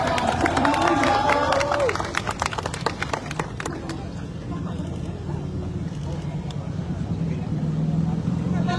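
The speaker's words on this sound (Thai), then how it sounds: "ขอเสียงปรบมือดังๆต้อนรับท่านที่ได้ประกาศชนะเลิศครับ" A crowd cheers and claps for the winner announced at a Fon dance contest celebrating Chiang Mai's 729th anniversary, with dense clapping that thins after a few seconds into general crowd noise while a voice speaks over it.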